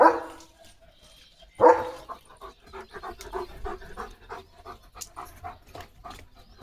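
Leo the dog barking at egrets outdoors, starting with a couple of loud close barks, then a run of softer rapid barks, yips and panting that keeps going.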